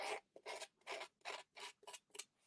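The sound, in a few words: scissors scraping card edge to distress it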